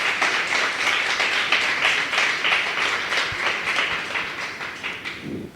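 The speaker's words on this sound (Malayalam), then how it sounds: "ഇത്ര നല്ലൊരു കച്ചേരി അവതരിപ്പിച്ചതിന് ആര്യമന് ആദ്യം തന്നെ നല്ലൊരു കയ്യടി കൊടുക്കാം" An audience claps after a student's Indian classical music concert debut at a graduation ceremony, a dense, steady round of applause that holds for several seconds before starting to thin out.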